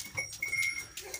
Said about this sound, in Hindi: और एक ये गुलाबी बकरी है